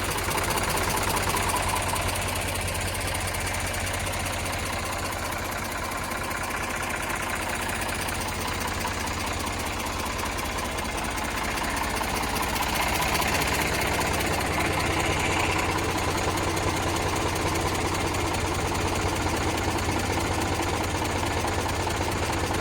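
An Eicher 485 tractor engine idles steadily and close, a dense continuous chugging drone with a fine knocking pulse that stays unchanged throughout, with no voices over it.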